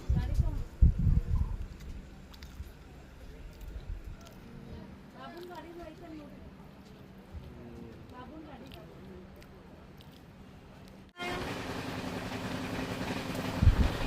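Train on the Miraj–Belagavi line in Karnataka rumbling along beneath talk, a low steady rolling roar that jumps louder and harsher near the end as the carriage noise opens up.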